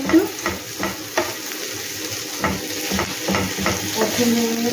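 Ingredients with a little sugar being stirred as they fry in a pan for a pointed gourd dish, a close sizzle punctuated by repeated spatula taps and scrapes, with no talking.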